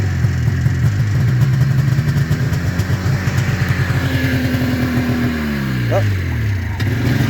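A 1987 377 Safari snowmobile engine fires from cold, loud and close, chugging rhythmically, then revving up and settling back with rising and falling pitch; a brief spoken exclamation occurs.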